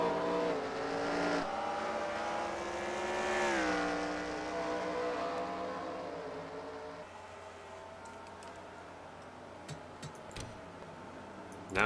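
Engine drone of race cars lapping a track in an online stock-car league video game, a steady harmonic whine that rises and falls as the field runs, heard alone with faint clicks near the end.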